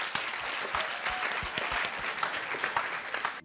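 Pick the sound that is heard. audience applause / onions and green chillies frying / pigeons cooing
audience applause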